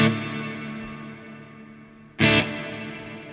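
Electric guitar through a Neunaber Immerse Mk1 reverb pedal on its Reverb Plus Echo setting: two strummed chords, each blooming into a long, washy tail with repeating echoes that slowly decay.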